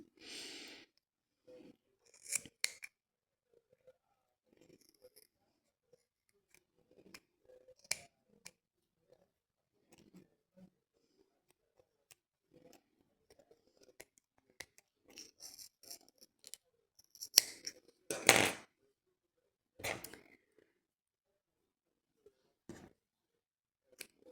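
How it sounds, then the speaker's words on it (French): Sporadic snips and crisp clicks of scissors cutting yarn for crochet against quiet, spaced irregularly with pauses, plus a few soft rustles and one louder burst near the end. "les ciseaux ne coupent pas forcément bien"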